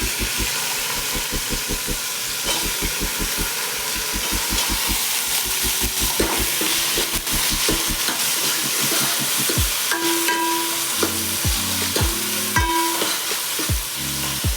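Spices fry in a pan for a sprouted green gram and chickpea sambar, giving a continuous loud sizzle and hiss with stirring throughout, and no talking.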